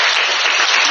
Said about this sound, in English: Let us give a round of applause to 3 of them.